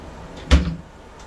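A single wooden drawer or closet door in a Miami South Beach hotel room opened with one short clunk and a brief slide, close by and alone against quiet room tone.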